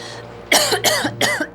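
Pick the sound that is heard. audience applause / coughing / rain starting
coughing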